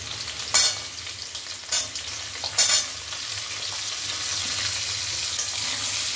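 Raw papaya pieces stirring and frying in a pan for a Bengali shukto, steady soft sizzle with a few louder scraping stirs near the start, then a continuous quieter hiss.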